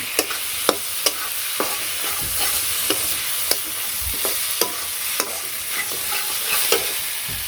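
Potatoes tossed into cooked-down spice masala for a snakehead fish kalia fry with a continuous sizzle, while a spatula scrapes and knocks against the pan in a fairly regular rhythm of sharp clicks, close and loud, with no talking.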